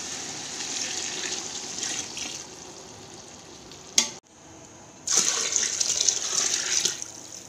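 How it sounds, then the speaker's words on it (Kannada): Water is poured from a vessel into a cooking pot of vegetables for vegetable pulao, a steady hissing splash that briefly stops and then resumes more strongly. "ಇದು ನೀರು ಹಾಕ್ತಾಯಿದ್ದೀನಿ 5 ಚಂಬು."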